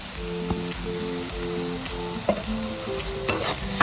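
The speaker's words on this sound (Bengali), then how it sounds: "এবার রসুন কুচিটা ভাজবো ততক্ষণে যতক্ষণের কালারটা চেঞ্জ হবে।" Chopped garlic sizzles in a pan for a chicken lollipop dish, a dense close crackle with a few sharp utensil taps. A steady tonal hum from a kitchen appliance runs underneath.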